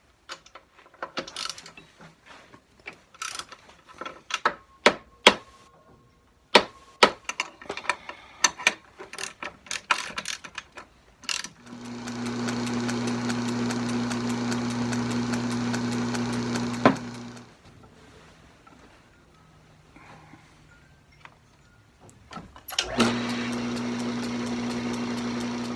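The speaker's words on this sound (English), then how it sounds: "What I want to try to do is get this belt to ride to the center of this pulley instead of rubbing on the shroud." Metal lathe with its drive belt rubbing against the shroud, heard as a steady mechanical hum and whir in two long running stretches, separated by close clanks and taps of adjustment work.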